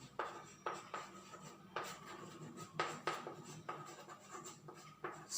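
Someone writes an equation on a board with quick, scratchy pen strokes in short bursts separated by brief pauses, close and fairly quiet, with no voices.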